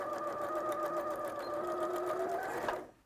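A sewing machine stitches a quilt seam in a steady, close, continuous whir that runs unbroken for almost three seconds, then cuts off abruptly near the end.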